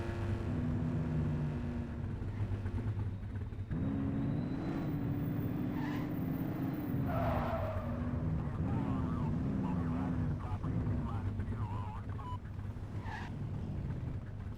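A car in the police video game The Precinct drives with a continuous engine roar and tyre squeals, a brief skid in the middle, while a voice talks over it.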